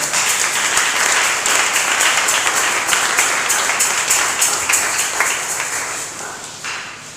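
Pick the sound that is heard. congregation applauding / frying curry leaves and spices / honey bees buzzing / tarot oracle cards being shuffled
congregation applauding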